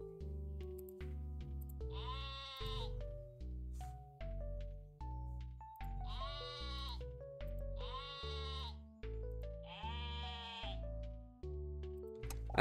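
Cartoonish sheep bleats in the video game Terracards, four wavering calls spaced evenly over a bouncy plucked game melody, clear and up front with no talk.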